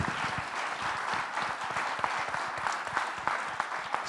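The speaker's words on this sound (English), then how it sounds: "A big applause to Elisabeth." Warm applause from an audience at an HEC Paris Social Business anniversary event, a steady, even patter of many hands clapping at moderate volume throughout.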